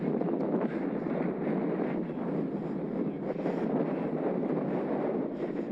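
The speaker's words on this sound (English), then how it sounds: "Straight into a heavy headwind." Heavy headwind roaring across the microphone while riding an e-road bike in the Peak District, a steady, loud low buffeting rush with no talking.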